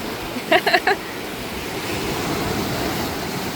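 Rough sea surf breaks at Funtana beach near Poreč, Croatia, as a steady broadband wash, with a brief cluster of sharp clicks or knocks early on over the continuous roar.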